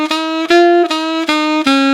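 Saxophone sounding five repeated notes on one pitch with a soft, longer jazz-style "da" tonguing, each note held and only lightly separated, close and clear with no voices.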